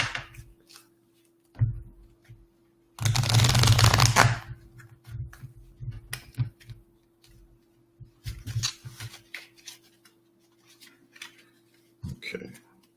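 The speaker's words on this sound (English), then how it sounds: "And give this another shuffle" Cards are riffled in one loud burst of shuffling, followed by scattered softer card handling and occasional quiet talk.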